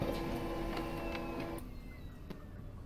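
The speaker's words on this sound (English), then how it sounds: "just how ungodly loud that printer is" A very loud printer in Freddy Fazbear's Pizzeria Simulator churns with a steady mechanical whir and faint ticking, then cuts off partway through, leaving a quieter hum and a single tick.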